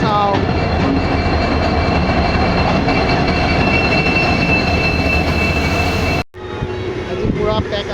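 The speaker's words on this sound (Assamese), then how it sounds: "এট লাষ্ট ৰঙিয়া এক্সপ্ৰেছ আহি গ'ল" The Rangia Express passenger train rolls into a station with a loud, continuous rumble, wheel squeal and clattering, then cuts to quieter platform noise with voices.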